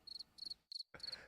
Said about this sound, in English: Crickets. There they are.